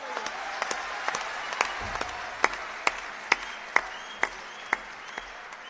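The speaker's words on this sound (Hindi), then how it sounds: "एक बार जोरदार तालियां बजा दीजिए" Scattered audience applause after a Hindi poetry recitation about Ram, heard as sparse, sharp individual claps that fall into a steady, evenly spaced rhythm over a quiet room.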